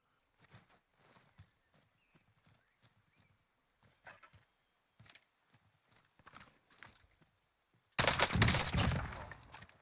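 EM2 assault rifle fire in Warzone, sparse clattering footstep-like taps and short shots followed by a loud, sustained automatic burst at the end, close and dense.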